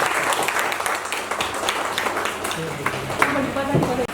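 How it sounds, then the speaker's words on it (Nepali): Audience applause, with a steady wash of clapping running throughout, a busy crowd sound with voices mixed in underneath. "अब यो लाङ्गा थपडी लगाइदिनु"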